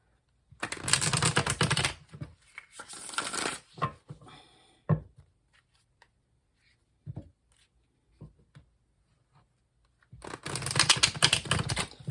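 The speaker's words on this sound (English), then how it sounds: "I like giving a really good shuffle when you guys are watching" Tarot cards are shuffled vigorously in two long riffling bursts at the start and another at the end, with soft taps and handling sounds between, close and crisp.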